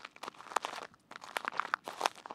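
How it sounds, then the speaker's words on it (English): Ice-covered sidewalk crunching close to the microphone, a series of sharp, brittle crackles in uneven bursts, quiet between steps, with no talking. "It's all very crunchy and just covered in ice"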